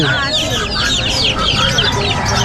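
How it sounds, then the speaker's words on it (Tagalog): Asil chicks and chickens cluck steadily at a busy pet market in Calumpit, with people chattering throughout the noisy scene. "Anong mga sisiw to, Ate Reg?"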